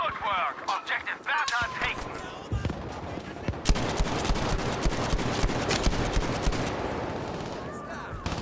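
Chauchat machine gun fire in a World War I shooter on the Operation Underground map, rapid bursts of loud automatic shots cracking repeatedly, with scattered gunfire and battlefield din around them.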